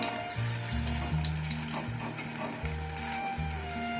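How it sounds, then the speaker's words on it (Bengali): Poppy seed and jackfruit seed fritters fry in hot mustard oil over a low flame, giving a steady close sizzle and crackle with soft bubbling and occasional turning noises, no voices. "এবার একটু উল্টে পাল্টে বড়াগুলোকে আমি ভেজে নিচ্ছি।"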